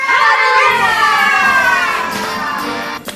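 Children in an online Zoom children's worship service shout "hallelujah" together, a loud, bright mass of young voices sustained for about three seconds and trailing off slightly at the end.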